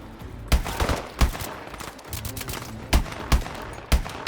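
Gunfire from the video game Call of Duty: Advanced Warfare cracks in loud, close bursts of several shots each, separated by short gaps over a dull rumbling background.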